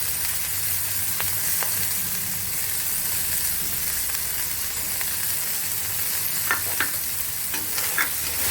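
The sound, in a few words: spine gourd frying and being stirred in a pan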